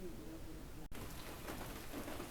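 Steady rain pours down in a village in Guinea, a dense, even hiss of drops hitting surfaces that fills the whole stretch, with a brief dropout partway through and no voices.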